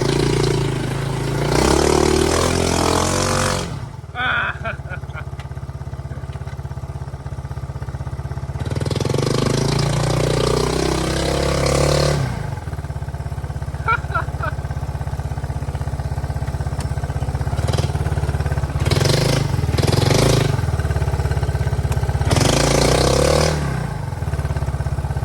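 A Yamaha YTM200 three-wheeler on a muddy trail revs hard in several loud bursts that rise and fall, with lower idling stretches between them, close to the listener and with no talking.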